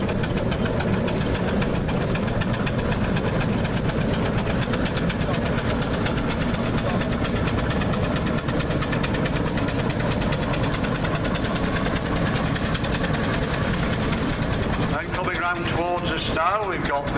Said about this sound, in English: Mr. Lomas has had this engine for 26 plus years.